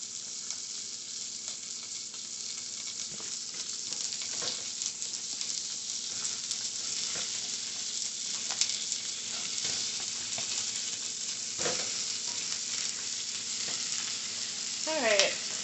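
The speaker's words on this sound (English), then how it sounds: "there's a little olive oil in there. The heat is high. I want to get a nice sear on these little little cuties." Ribs searing in hot olive oil over high heat make a steady, even sizzle close by that runs throughout, with a few faint pops and clicks of the pan.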